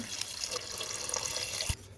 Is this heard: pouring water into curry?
yes